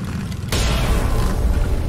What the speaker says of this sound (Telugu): అండ్ దెన్ ఒక గన్ షాట్.